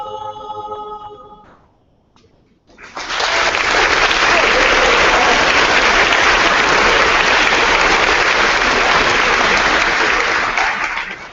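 Audience applause at a school program, a loud, dense burst of clapping that starts abruptly after a brief quiet and holds steady to the end, following a short stretch of music.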